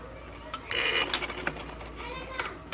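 A sewing machine stitching a ladies' shalwar gives a short whirring burst amid clicks, with a woman and children's voices close by.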